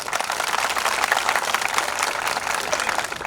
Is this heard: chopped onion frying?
no